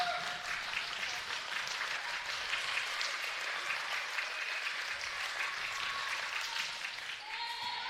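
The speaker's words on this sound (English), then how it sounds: "we have a lot of clapping during the GCA service" Spectators at a high school volleyball tournament match clap steadily and continuously in a gym, a dense, even wash of applause from a sizable crowd heard from some distance.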